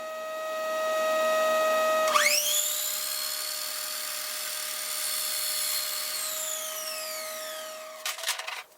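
A power saw blade whines up and bites through PVC pipe, a loud, close, high-pitched cutting scream that holds for several seconds, then winds down over a lower motor hum and ends with a few rattling clatters.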